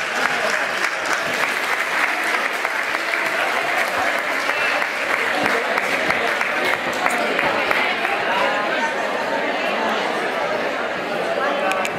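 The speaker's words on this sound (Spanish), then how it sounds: "Un aplauso, un fuerte aplauso." A crowd claps together for a long, dense stretch of applause, steady and fairly loud throughout, with scattered voices under it at a village fair lunch for the elderly in Ojén.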